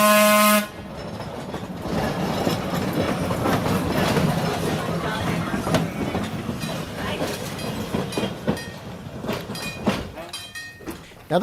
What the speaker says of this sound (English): And now it's time to cross the tracks and see some trains running.